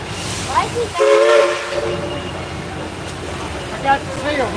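Southern Railway steam locomotives 630 and 4501 arriving at the Tennessee Valley Railroad Museum, with a tonal whistle blast and steady hiss and rumble under people talking nearby.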